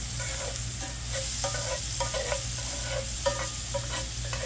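Garlic, about a tablespoon and a half, sizzles steadily in a pan for a T-bone mushroom sauce, with repeated scraping stirs cutting through the frying hiss at close range.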